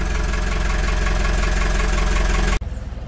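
A narrowboat engine runs in gear, a loud, close, steady chugging drone that cuts off sharply near the end and gives way to a lower, uneven idle.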